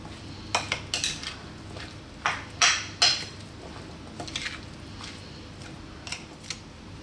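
Tomato and chickpea salad being served onto a plate, with several distinct clinks and scrapes of utensils against dishware spread across a quiet background, no talking.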